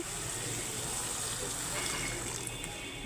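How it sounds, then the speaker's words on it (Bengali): Water is poured into a pan of simmering katla fish curry, making a steady, continuous rushing gush that holds at an even level from start to end. "এবারে আমি জল দিয়ে দিচ্ছি"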